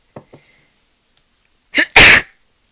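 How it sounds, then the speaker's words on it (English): A single loud, close sneeze with a sharp intake of breath just before it, preceded by a couple of faint small sounds. "Sorry, excuse me, I had to sneeze."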